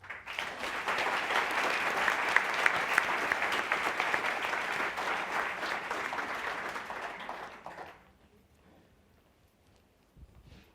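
An audience at an author event at the Illinois Holocaust Museum applauds warmly, a dense steady clapping that holds for about eight seconds and then fades to near silence.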